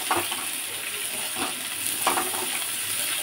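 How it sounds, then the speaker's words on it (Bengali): Onions frying in a pan are stirred, giving a close, steady sizzle with several soft scraping strokes spread through it and no talking. "এটা একটু নাড়াচাড়া করে নিচ্ছি।"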